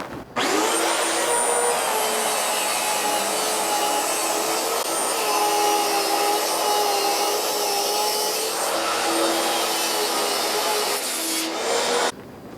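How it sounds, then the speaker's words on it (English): A swap saw rips a 24 by 60 inch sheet of Baltic birch plywood lengthwise, giving a loud, steady whining cut that runs nearly the whole time before stopping abruptly near the end. "So we're going to rip it here on the swap saw."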